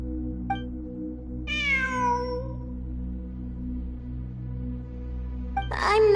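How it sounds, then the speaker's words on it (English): A cat meows in a video game with no commentary: one long, clear descending meow rises above steady background music, with a couple of soft clicks before and after and a brighter burst near the end. "It really is a cat."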